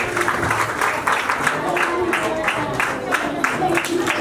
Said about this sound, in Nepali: हामी उहाँ आउँदै गर्नुहुँदाखेरि हामी तालीले हामी स्वागत गर्नेछौँ